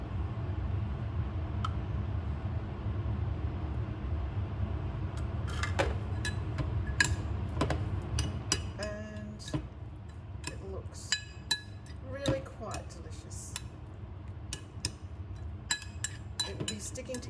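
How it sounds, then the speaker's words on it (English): Sugar and coconut cream being mixed into rice, heard as soft spoon clinks and scrapes against a bowl over a low background hum, with no talk. "I'm going to mix in a little bit of sugar and a little bit of coconut cream."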